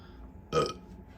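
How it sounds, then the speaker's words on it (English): A single loud burp from someone commentating an NBA 2K14 basketball franchise game, about a quarter second long, close to the microphone, with no talk during it. "excuse the burp"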